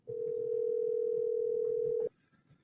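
A steady telephone dial tone hums for about two seconds on a call line, then cuts off abruptly, leaving a faint low background.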